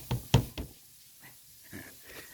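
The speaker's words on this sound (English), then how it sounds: "A fresh knock at the door sounded." Three sharp knocks on a door close by in quick succession, followed by faint quiet shuffling in a still room.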